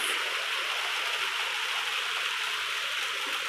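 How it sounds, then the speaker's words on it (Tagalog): Steady rain falls on a rainy Sunday at a reservoir, a continuous even hiss of drops with no talking, constant in loudness throughout. "Lalo na ngayon na naulan. Ayan, umuulan siya. Rainy Sunday."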